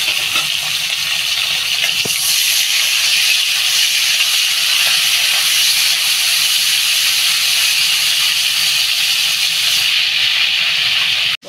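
Prawns hit hot mustard oil in a wok and sizzle with a loud, steady, close hiss that barely changes for over ten seconds before cutting off abruptly.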